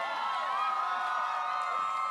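A concert audience at a show at the TLA screams and cheers in a dense, loud, continuous roar of high wavering voices with no break.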